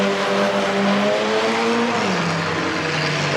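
Race cars, mini stock cars among them, roar past on a dirt oval track, a loud continuous engine drone with pitch sliding down as a car passes, no talk over it.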